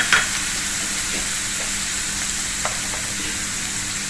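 Garlic fries in hot oil for a drumstick (moringa) pod curry, giving a steady close sizzle with a few light stirring scrapes and a brief clack at the start.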